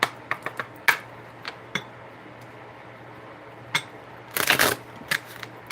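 Quiet riffles and taps of playing cards being shuffled, a few scattered flicks followed by a brief burst of shuffling near the end.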